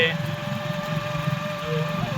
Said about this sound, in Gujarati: મિત્રો આપણે હોન્ડા લઈને નીકળી ગયા છીએ જંગલમાં ફરવા માટે